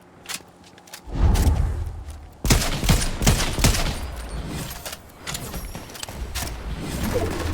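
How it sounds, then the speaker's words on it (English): Gunfire in the Fortnite video game, a dense fusillade of rapid shots starting after a quiet second and continuing loudly with bursts and brief dips throughout. "Oh, they're shooting back."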